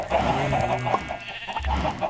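Bleating farm animal from Minecraft, a short nasal call repeated a few times, mid-level and fairly close, over a low steady game background hum.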